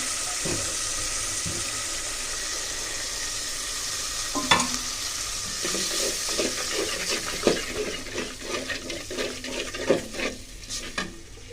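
Ginger, garlic, cumin and chili paste frying in a pan, a soft sizzle that sharpens midway into irregular scraping and stirring bursts, close and without talk.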